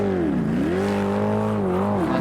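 A loud race car engine drone at Sandown, rising and falling in pitch as it revs after a stall, steady and continuous with faint background noise behind it.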